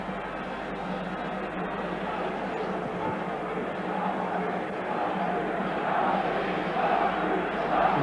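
A football crowd in a stadium in Bern during the 1986 World Cup qualifier between Switzerland and Ireland, a steady, distant roar of many voices that swells gradually louder toward the end.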